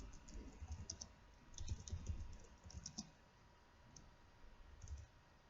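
Keys on a computer keyboard clatter in quick, uneven bursts of close, crisp clicks with brief pauses between runs, with no voice over them.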